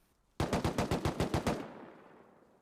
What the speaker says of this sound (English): bullets going out